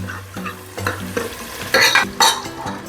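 Sliced shallots fry for a mutton curry, giving a close sizzle broken by a few sharp stirring scrapes and clatters of a spatula against the pan.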